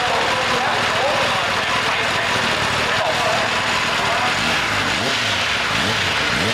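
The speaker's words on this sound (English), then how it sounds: "So it's time to check out the exhaust note now." A 2021 Kawasaki Ninja ZX-10R sport motorcycle's exhaust runs steadily and loudly, a dense continuous engine roar with rising and falling rev sweeps near the end, recorded close up.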